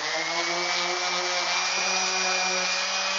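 Steady, loud power-sander whine with a constant buzzing tone as the outside of a wooden bluebird house is sanded, running unbroken throughout with no talk.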